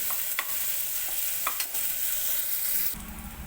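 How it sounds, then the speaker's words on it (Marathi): Garlic added to browned onion frying for a cluster bean curry, a continuous soft sizzle with a few sharp scraping stirs, ending in a low hum as the heat sound changes. "तर कांदा चांगला भाजून घेतला आता लसूण टाकून घेते"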